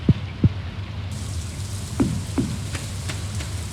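Rain falling outdoors in a garden with blueberry bushes, heard as scattered drops hitting a surface with a few sharp close taps over a soft steady background.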